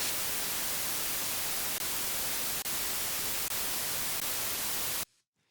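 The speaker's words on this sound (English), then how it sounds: "white noise, arrangement tools, audio white noise, as you can hear" Raw white noise sample played in Ableton: a dense, steady, full-spectrum hiss at constant level with a few faint ticks, stopping abruptly near the end into near silence.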